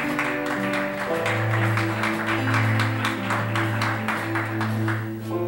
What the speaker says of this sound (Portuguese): Aplauda o Senhor, por favor.